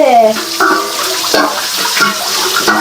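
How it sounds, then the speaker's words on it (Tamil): Water splashes and clatters as cooking vessels are washed at a sink in a home kitchen during chicken curry and fish fry preparation, with running water and intermittent clinks of pots, close and loud. "அந்த கேப்பில் இவங்க வந்து பாத்திரம் கழுவிட்டு இருக்காங்க."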